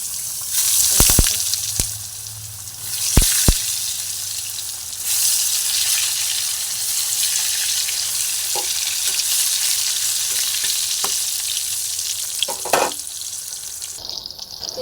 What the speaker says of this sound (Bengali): দেখো আমি লাল করে বেগুনগুলো ভেজে নিচ্ছি